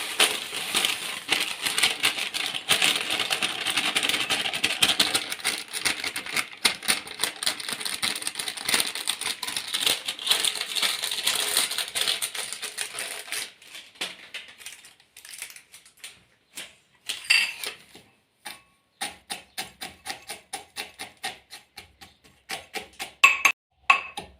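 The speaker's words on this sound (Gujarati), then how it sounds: "આપણે આ મસાલો ખાંડી રહ્યા છીએ" Spices for a Kathiyawadi masala are pounded with garlic and chili in a home kitchen, a dense run of quick, dry thumps and scraping for over ten seconds, then slower, separate strikes that grow louder toward the end.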